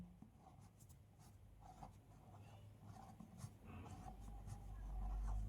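Pen writing on paper in short quiet strokes and scratchy bursts, close and faint over a low background hum.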